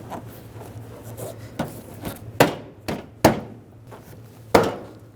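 Front bumper molding being tapped into place on a 2013-2016 Dodge Dart: several sharp, separate knocks at uneven intervals, some louder than others, over a faint steady hum.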